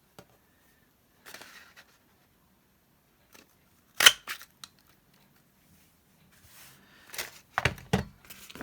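A paper punch cuts shapes from inked book pages, making sharp crunching clicks in sparse bursts with quiet gaps and a cluster of louder snaps near the end.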